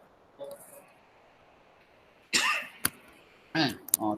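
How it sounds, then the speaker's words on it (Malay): A woman gives a few short, dry coughs: a faint one first, then two louder bursts with a small click between them, close to the microphone. "Terbatuk kering tu Kak."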